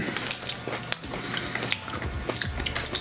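Crunchy bites into a cheap American chocolate bar filled with crispy rice, a few close, sharp cracks followed by moist chewing and mouth noises, no talking.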